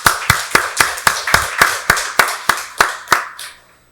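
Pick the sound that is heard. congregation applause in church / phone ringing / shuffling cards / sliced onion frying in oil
congregation applause in church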